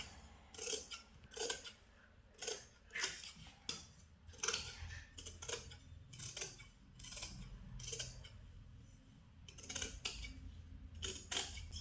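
Tailoring scissors snip through saree fabric while a pleated gown is cut out, giving repeated crisp cutting strokes in irregular bursts, close and fairly quiet.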